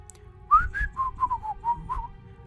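A person whistles while cleaning a fast-food restaurant kitchen, a short tune of about eight clear notes that slide and wobble in pitch, close and alone.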